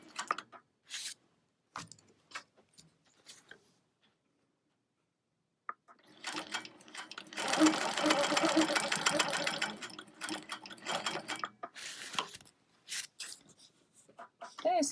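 A sewing machine stitches a wholecloth quilt in one close, whirring burst of rapid, even needle strokes lasting a few seconds, with scattered taps and handling clicks before and after it.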